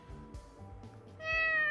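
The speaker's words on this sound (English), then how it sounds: "Meow." A cat meows once in the visual novel Fatal Twelve, a short, clear and fairly close call that rises near the end over soft background music.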